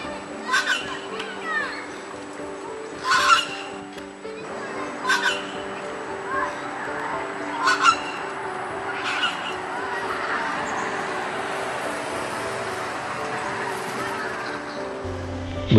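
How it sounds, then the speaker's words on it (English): A flock of parakeets calls by an Australian roadside, repeated bursts of harsh chattering squawks from several birds over a steady background, fairly near and loud throughout. "We disturbed this parakeet party when we stopped on the roadside."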